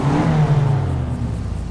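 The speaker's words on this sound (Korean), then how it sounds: "엔진 소리 한번 들어볼게요." Car engine in a racing video game, driven off-road, revs with a steady whirring drone that fades slightly, heard alone without talk.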